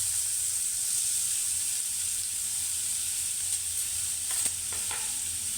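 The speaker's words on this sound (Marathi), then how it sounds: "त्याच्यामध्ये आपण आता हा कांदा कापलेला टाकणार आहोत" Chopped onion hitting hot oil seasoned with asafoetida and turmeric for a quick Marathi vegetable dish, giving a steady, close sizzle with a few faint spoon scrapes near the end and no talking.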